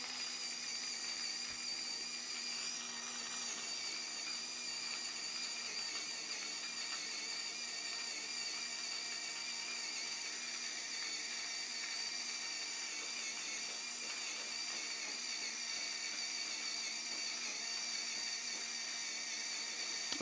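SPTK38G coffee grinder grinding coffee beans, a steady high-pitched motor whine and fine grinding hiss that runs evenly for the whole stretch, fairly quiet and with no voices.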